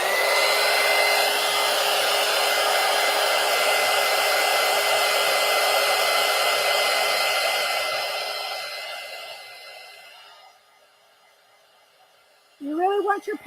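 Handheld hair dryer blowing on wet paint on an art card, a loud, steady roaring whoosh that fades and cuts off after about ten seconds, followed by a short burst of clattering handling noise.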